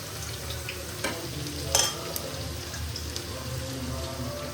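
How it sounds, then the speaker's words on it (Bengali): Onions frying in hot white oil over a high gas flame for a restaurant-style chicken biryani, a soft steady sizzle with occasional stirring clinks, quiet and close, with no talking. "তো এখন পেঁয়াজটাকে অনেকক্ষণ ভাজি।"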